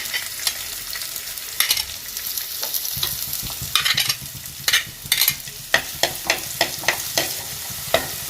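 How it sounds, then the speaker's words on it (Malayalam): Steady sizzling of onions frying in coconut oil, broken by sharp, regular scrapes and clicks of a spatula stirring the pan. "ഉള്ളി കുറച്ച് മൂത്ത് വരട്ടെ"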